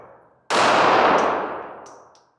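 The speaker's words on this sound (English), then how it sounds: "Let's continue shooting. Less talking, more shooting." A single loud gunshot from a Kel-Tec P3AT .380 micro-compact pistol, a sharp crack that rings out and decays over about two seconds, with faint clinks afterward and no talking.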